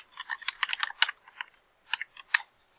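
Fingers type on a computer keyboard nearby, giving a quick run of light clicking keystrokes, a short pause, then a few more taps.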